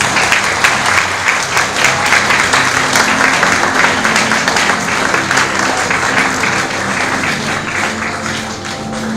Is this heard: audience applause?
yes